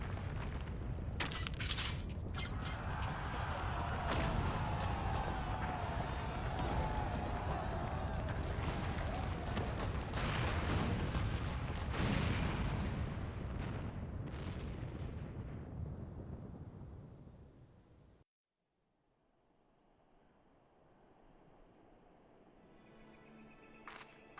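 Loud, sustained booming and rumbling of cannon fire and a tower collapsing in Final Fantasy XIV battle, with crashes and debris over about eighteen seconds, then cutting to quiet, low ambience.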